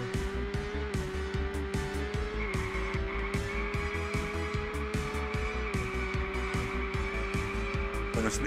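A race car in the Formula Retro Racing World Tour video game, with a steady high engine whine and rapid rattling, skidding bursts running continuously and loudly throughout.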